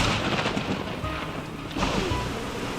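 A thunderstorm rumbles with low thunder over steady rain and wind, dense and continuous throughout, with no voices.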